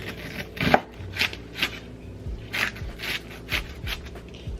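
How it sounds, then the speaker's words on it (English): An onion is chopped with a knife on a board: about nine close, crisp cutting strokes land in an irregular rhythm, with quiet pauses and faint scraping between them. "I feel like I'm cutting this onion weird."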